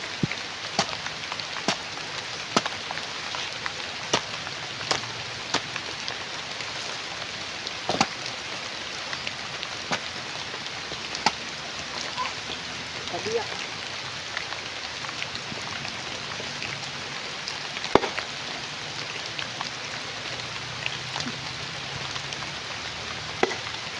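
Steady rain falls in a dense, even hiss, with scattered louder drips and taps landing close by, and no voices.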